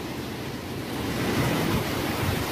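Strong typhoon wind from Typhoon Krathon in Taiwan, a steady broadband roar that swells slightly halfway through, with no voices over it.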